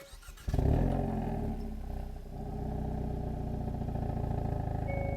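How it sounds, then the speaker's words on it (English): A 2025 Hyundai Elantra N engine cranks and starts with its exhaust in normal mode, a brief starter whir jumping into a loud flare, then settling into a steady, close idle rumble. "So we're gonna go ahead and turn on the car."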